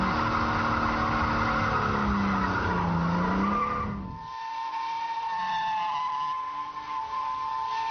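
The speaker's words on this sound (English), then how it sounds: "First gear, loads of lock-on, loads of revs, and dump the clutch. And round it goes, instant donuts, instant joy." A BMW Z3 M Roadster spins donuts on tarmac, its tires squealing loudly with a high, wavering screech over the revving engine, then easing into a steadier, thinner squeal.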